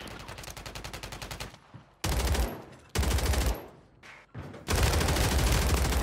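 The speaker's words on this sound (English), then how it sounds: "Shoot your gun so I can know where to go." Gunfire in a Call of Duty video game: loud, rapid automatic bursts in several strings separated by short pauses, close and dominant, with little talking.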